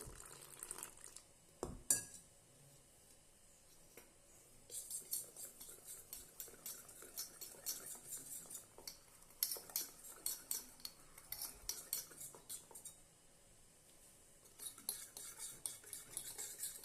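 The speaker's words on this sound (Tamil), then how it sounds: "இதில் சும்மா கொஞ்சம் தண்ணி ஊற்றி கரைச்சிக்கலாம்." A spoon clinks and scrapes against a metal vessel while ragi flour is stirred into water to dissolve it, the quiet rhythmic tapping coming in bursts with brief pauses.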